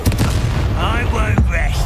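A Confringo spell blast in the video game Hogwarts Legacy, a short booming explosive burst up close followed by a rumbling tail, with game voices over it.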